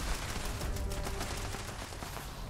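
Dense, loud bursts of gunfire from a weapon in the video game Fallout 76, a steady crackling barrage that runs through the whole moment with no talk over it.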